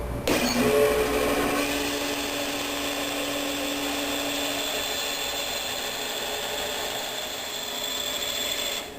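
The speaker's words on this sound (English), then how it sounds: "This is a 14-inch jet, and what we've got is a 1/8 inch wide cutting blade for plastic and metal." A 14-inch Jet band saw fitted with a 1/8-inch blade for plastic and metal cuts plexiglass for a computer case window, making a loud continuous whirring rasp with a sharp bite at the start, steady throughout with no voices.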